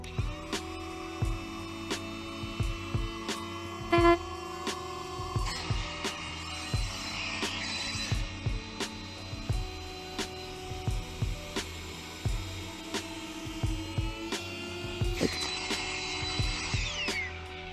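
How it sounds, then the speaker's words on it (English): Powered electric inflator filling the air chambers of an Advanced Elements AdvancedFrame Elite inflatable kayak, a steady whirring motor hum with pitch that shifts as pressure builds, broken by repeated clicks and brief bumps. "once the chamber's up as much as it can be with the powered inflator"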